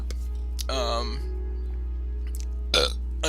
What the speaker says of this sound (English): another burp